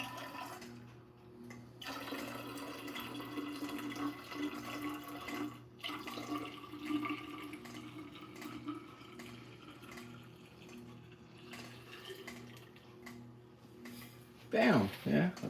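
Liquid poured by hand into a cup by a blind husband, a steady trickling stream running for several seconds with a low hum behind it, ending in a brief louder splash.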